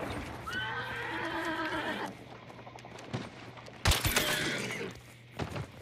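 A horse in the video game Hunt: Showdown gives a long, wavering whinny that sits over a low in-game hum, followed by sharp gunfire-like bursts and rumbling noise.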